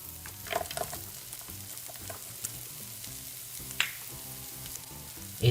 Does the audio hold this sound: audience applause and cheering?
no